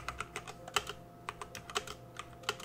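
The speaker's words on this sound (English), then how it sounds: "A little bit of show of clicky sound of keys." Clicky keystrokes on a METOO ZERO mechanical keyboard, a steady string of sharp individual clicks at an uneven typing rhythm, close up with no voices.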